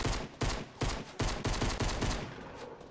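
Rapid Fortnite gunfire rattles out in bursts of loud, evenly spaced shots with brief gaps between volleys, close and alone without talk.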